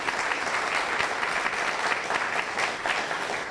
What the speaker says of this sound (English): Can you please give them a round of applause?